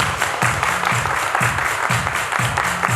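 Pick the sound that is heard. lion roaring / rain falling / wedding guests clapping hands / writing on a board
wedding guests clapping hands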